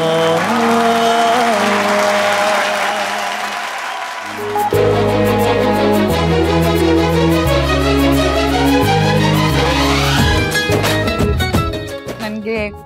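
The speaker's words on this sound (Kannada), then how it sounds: "ವೆಲ್ಕಮ್, ಬರ್ಲವ್ರಿಗೆ ಜೋರ ಚಪ್ಪಾಳೆ." Studio audience applause welcoming a couple on a Kannada television reality show, heard under loud continuous background music with rhythmic beats throughout, the clapping blending into the music rather than standing out alone.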